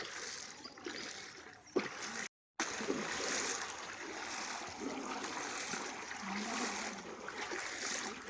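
Muddy floodwater, waist deep, rushing strongly across the Thiruvalla–Ambalappuzha road in Kerala, making a continuous turbulent wash and splashing, with a short dropout near the middle.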